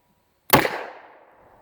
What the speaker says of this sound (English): we're going to transition to 5 shots of Full House 357 Hydro Schnauze